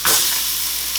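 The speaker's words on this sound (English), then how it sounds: "You can still hear it sizzling." Homemade bologna with American cheese sizzling in a frying pan, a bright continuous crackling hiss that starts with a louder burst and then settles to a steady sizzle, close and alone.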